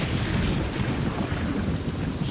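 A thunderstorm rages in the video game The Elder Scrolls III: Morrowind, a loud, constant roar of heavy rain with deep rumbling underneath and no speech.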